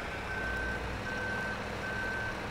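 A vehicle reverses in Farming Simulator 17, giving three steady, evenly spaced backup beeps over a constant loud engine drone.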